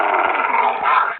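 A dog in Minecraft PE lets out one loud, close growl lasting about a second, a sustained rough snarl that cuts off abruptly, with no talk over it.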